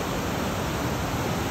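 Waterfall at Kent Falls State Park in Connecticut, a steady broadband rush of falling water, even and continuous with no breaks, moderately loud and without voices.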